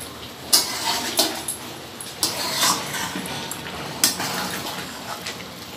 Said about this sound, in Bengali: জল দিয়ে দেবো, জলটা পাবে।